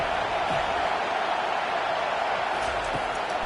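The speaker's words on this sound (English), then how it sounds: "Decibels rising as the crowd gets behind this defense on third down" Steady stadium crowd roar in a Madden 24 football video game on third down, a dense continuous wash of noise holding loud throughout with faint thumps beneath.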